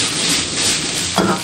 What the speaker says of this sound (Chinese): 所以我们这个包菜一定要炒到全熟